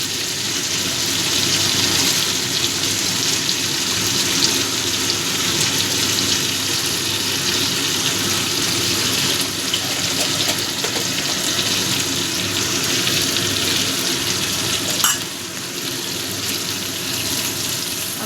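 Ginger-cumin paste frying in a pan for tangra fish curry, a continuous loud hissing sizzle with a brief clatter near the end, no voices.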